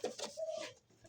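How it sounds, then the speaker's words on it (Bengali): A semi-adult Kashmiri pigeon gives one short, soft coo, close by and alone. "এটা সেমি আডাল্ট কবুতর, এটা কাশ্মীরি"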